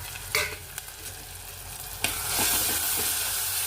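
Onions and tomatoes frying in a pan for mackerel curry give a soft, continuous sizzle, broken by a couple of light scraping clicks as they are stirred, heard quietly and up close.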